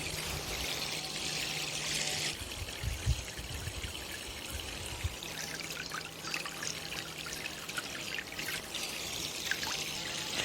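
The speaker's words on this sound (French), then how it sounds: "On va faire le test de la mise en eau, bon, pourquoi pas dans la piscine" Water from a portable camping shower with a spray head pours and trickles into a pool, a steady splashing stream running throughout, close and fairly loud, with no talk over it.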